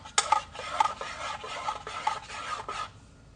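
A spoon scrapes and rasps inside a cup while matcha latte with honey is stirred, a close, quiet series of quick rhythmic rubbing strokes lasting about three seconds before stopping.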